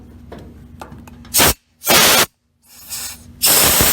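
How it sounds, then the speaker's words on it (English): Short bursts of low-pressure compressed air blown through a motorcycle CV carburetor to lift the slide: four loud, close hissing blasts separated by brief silences, over a faint mechanical background. "take compressed air and blow through here, and that slide should lift."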